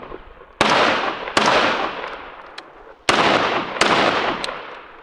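Rifle shots with a Surefire suppressor and muzzle brake fired into dirt outdoors: four sharp, loud reports in two close pairs, each trailing off into a long rolling echo.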